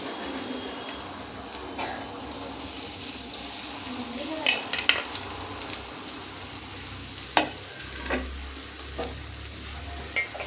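Grated potato and carrot frying in a pan, a soft, continuous sizzle under scattered scraping and clinking of a spoon against the pan, with a low hum near the end.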